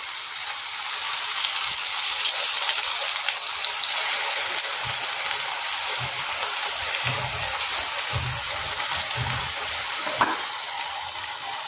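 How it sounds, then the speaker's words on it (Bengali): Eggplant slices fry in hot oil and are flipped from side to side, giving a steady, close crackling hiss like rain, with a few soft knocks and no voices. "এইভাবে বেগুনগুলোর এপিট ওপিট করে ভেজে নিতে হবে, একটু লাল লাল হবে"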